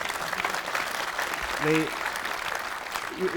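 An audience applauds with steady broadband clapping that fills the clip during a political interview, while a person speaks over it.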